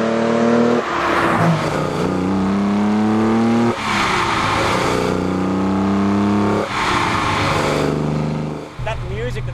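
A carbureted Holden race car engine revs hard in repeated rising pulls, each climbing in pitch before dropping back, loud and close, with a few quick blips at the end.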